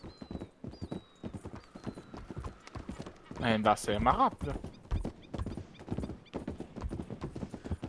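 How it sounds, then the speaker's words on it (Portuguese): Horse hooves clip-clop steadily in the Red Dead game world, a rhythmic trotting patter running under ongoing conversation, with a brief neigh rising in the middle. "O meu cavalo é forte."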